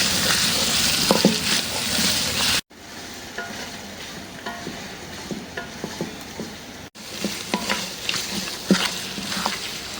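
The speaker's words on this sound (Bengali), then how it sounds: "আলু পেঁয়াজ মাংস সব ভাজা ভাজা করে দিয়েছি" Potatoes, onions and chicken fry together in a pan, giving a continuous sizzle punctuated by scraping stirring strokes, close and moderately loud, interrupted by two short breaks.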